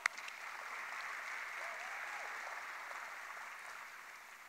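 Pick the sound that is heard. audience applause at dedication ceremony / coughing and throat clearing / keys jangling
audience applause at dedication ceremony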